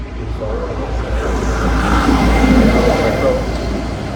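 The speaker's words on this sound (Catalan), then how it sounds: "Sembla que va ser un tren." A train on a rail line through a quiet village passes as a low, steady rumble that swells in the middle and eases off, with a broad roar from a distance and no talk.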